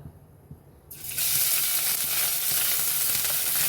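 Crushed ginger dropped into hot oil, near-silence broken by a sudden loud sizzle that swells and holds as a steady bright hiss, close up with no voices.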